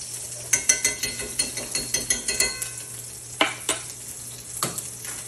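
Salmon burgers frying in a hot pan, with steady sizzling and a run of sharp clicks and scrapes from stirring or utensil contact, close and fairly loud with no talk.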